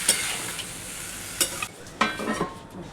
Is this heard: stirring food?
yes